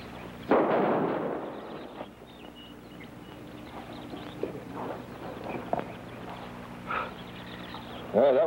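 A single sharp gunshot rings out in an old Western radio drama scene, a loud crack near the start that fades into quiet background with faint footsteps and small clatters afterward.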